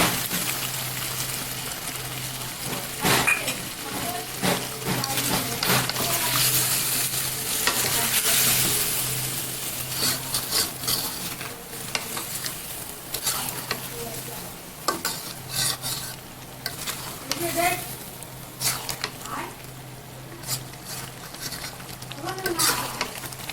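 Mutton sizzles in a pan while being stirred with yogurt, a steady frying hiss under irregular scraping and stirring clatter, with occasional voice in the background.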